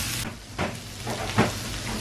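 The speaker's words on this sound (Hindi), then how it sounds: "अब इसमें ये डाल देंगे भिंडी जो फ्राई की थी। अब इसको 2 मिनट और पकाएं।" Fried okra (bhindi) sizzling in a hot pan, a steady close hiss with brief stirring bursts, alone without talk.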